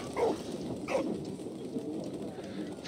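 Soft, low pigeon coos in Valiant Hearts, two or three short calls close together over a quiet ambient background.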